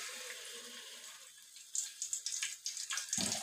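Potato pieces hitting hot oil seasoned with turmeric in a pan, while preparing Bengali mutton aloo curry: a soft hiss that rises into a denser, crackling sizzle partway through, followed by a low clunk near the end.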